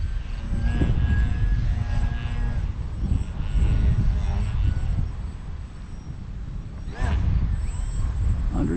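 A Bayer Model 32-inch Crack Yak 55 RC airplane with a failing servo flies outdoors, giving a steady electric motor whine with a constant high tone over rushing wind noise, with a few brief louder bursts and voices faintly audible.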